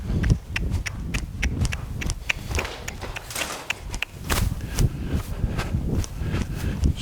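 A big, long-striding young horse, a colt, walking under a rider, with steady rhythmic hoofbeats thudding close by, alone and without talk.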